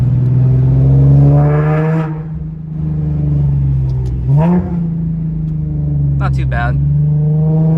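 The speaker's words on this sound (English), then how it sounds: "I could roll down the windows and show you guys how it sounds right now before I put on the exhaust." A stock-exhaust Infiniti G37 drones steadily from inside the cabin with the windows down, with a couple of brief revs lifting the engine note while someone speaks over it.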